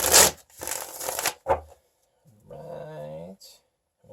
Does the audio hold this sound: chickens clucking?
no